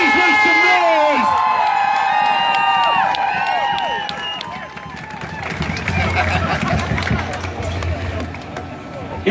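Crowd at an outdoor rally roars with cheers, whoops and shouts, loud and sustained at first, then easing into a busier mix of scattered yells, chatter and rhythmic noisemaking.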